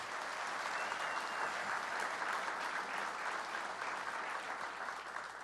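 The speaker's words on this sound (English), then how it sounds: "Let's please give them a round of applause." An audience at a governor's event in Buffalo applauds, a dense, even wall of clapping that holds steady throughout at moderate distance, with no talk over it.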